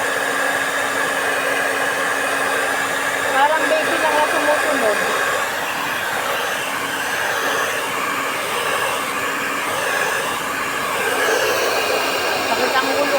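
A handheld hair dryer blows steadily on hair, a continuous loud airy whoosh lasting throughout, with someone talking over it.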